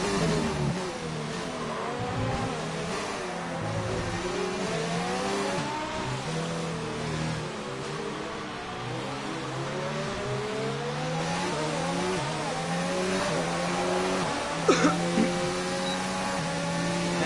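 Race cars in a league race at the Abu Dhabi Grand Prix in a racing video game, a McLaren and a Ferrari among them, drone and rev steadily, with engine tones rising and falling as gears shift and a commentator talks over them.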